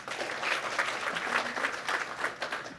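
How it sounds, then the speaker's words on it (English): Audience at a hacking event applauds a guest speaker named Paul who flew in from Denver: steady, moderately loud clapping from a small crowd, continuous and unbroken. "So give him a round of applause for making it out."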